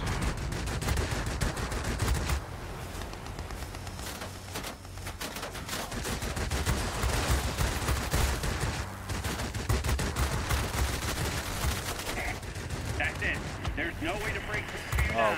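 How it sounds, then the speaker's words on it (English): Aircraft machine guns rattle in World of Warplanes, long rapid bursts of loud gunfire over engine drone, with a voice talking over the shooting at times. "Shoot down the bow fighter next."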